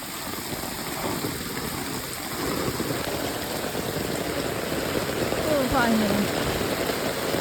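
Heavy monsoon rain at a village house in the Konkan region, a dense steady hiss of downpour throughout, with a voice speaking faintly underneath.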